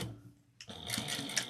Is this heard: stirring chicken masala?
no